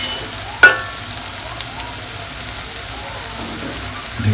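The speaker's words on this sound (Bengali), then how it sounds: "পেঁয়াজ ভাজি করতেছে" Onions frying in a pan give off a steady, close sizzle like light rain, with a brief clatter of stirring near the start and no voices.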